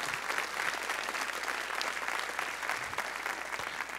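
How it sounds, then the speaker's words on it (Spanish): A church congregation applauds during a Spanish-language sermon, a steady, dense wash of clapping that holds evenly throughout at a moderate distance, with no one speaking. "Dele un aplauso al Señor,"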